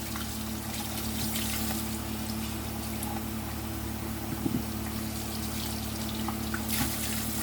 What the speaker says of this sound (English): finish rinsing your razor, rinse out your shave cup, get all your shaving cream out of it,